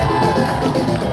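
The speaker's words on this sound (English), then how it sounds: "keep that noise going for Mr. Miyamoto!" A large crowd cheers, yells and whoops for Shigeru Miyamoto at the public opening of Super Nintendo World, a dense, loud and continuous roar of voices throughout.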